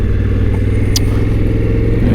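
Honda Africa Twin Adventure Sports 2024 motorcycle on a road ride, its engine thrumming loud and close in an even, pulsing drone with a quick sharp tick partway through.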